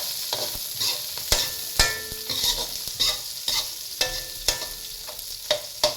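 Onion and garlic sauté in a pan for Batangas-style goto, a soft crackling sizzle punctuated by sharp spoon-on-pan clacks and stirring scrapes at an irregular rhythm.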